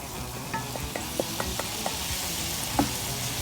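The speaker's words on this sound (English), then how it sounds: "And now, once the masalas are in, we're going to add in our beans." Beans tipped into a pan of masala spices and stirred, with a steady sizzling fry and a few light clinks of a utensil against the pan, close and even.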